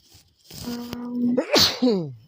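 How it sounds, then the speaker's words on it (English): A person sneezes twice in quick succession, each a sharp, loud burst with a vocal tail, close to the listener with a brief gap between them. "Sneezing twice."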